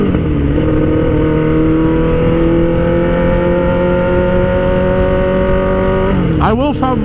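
A car cruises steadily along a back road, its engine humming at an even, constant pitch with road noise throughout, then a brief shift near the end as the engine note rises and falls.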